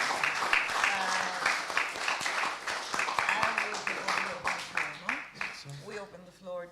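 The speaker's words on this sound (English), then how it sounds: "I would propose now that you can clap." Audience clapping at a book presentation, a dense spread of many hands with broadband crackle that holds steady, then thins out toward the end, while a few voices murmur underneath.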